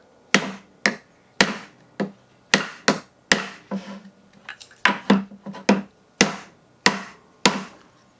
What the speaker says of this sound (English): I wonder if I can literally just pop this open by hitting it